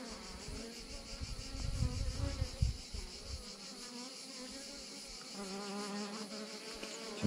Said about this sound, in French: C'est une abeille et je me demande si elle n'est pas en train de pondre.